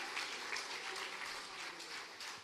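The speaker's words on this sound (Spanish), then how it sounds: "Dele palmas al Señor de la gloria." A church congregation claps steadily during a Spanish-language sermon, a dense, even patter of many hands heard faintly and from a distance, with no voices over it.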